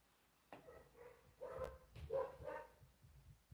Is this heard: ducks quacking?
no